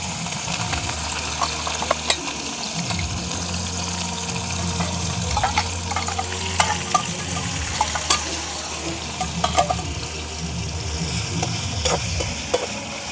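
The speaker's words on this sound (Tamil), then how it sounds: "அந்த கருவாடை தான் அப்படியே பொரியறதுக்கு போட போகிறோம்" Dried fish frying in boiling oil, a constant close bubbling sizzle with intermittent crackles and pops and occasional stirring, with no talk over it.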